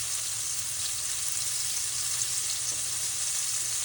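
Flour-coated beef pieces sear in a hot pan, giving a steady, dense, close sizzle that holds at an even level throughout with no talking.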